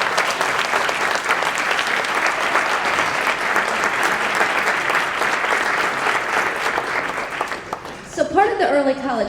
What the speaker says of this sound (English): Let's give Chloe a round of applause.